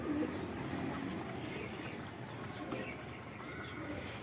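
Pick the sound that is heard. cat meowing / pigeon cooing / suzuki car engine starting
pigeon cooing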